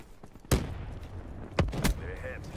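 Gunfire from Black Ops III multiplayer comes as a few sharp, close shots, one at about half a second and a pair near the end, over low background game noise.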